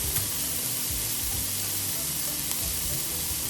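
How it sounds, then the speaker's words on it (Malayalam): A coconut mixture of fresh grated coconut and coconut powder sizzles and fries steadily in a pan for an okra curry (vendakka theyal), with a close, continuous crackle and occasional stirring scrapes. "അപ്പോൾ ഇതെല്ലാം കൂടി നന്നായി വഴറ്റിയെടുക്കുക."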